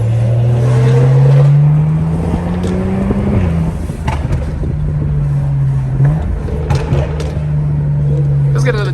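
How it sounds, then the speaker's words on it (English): A BMW engine revs loudly and up close as it downshifts on a downtown New York street. The engine holds a steady drone, then drops in pitch, under a busy urban background. "Let's get another downshift with the boys"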